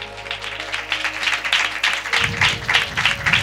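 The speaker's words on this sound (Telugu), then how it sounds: "Just give big claps to the lord." Church congregation clapping for the Lord, a steady burst of many hands applauding together, loud and sustained with no talk over it.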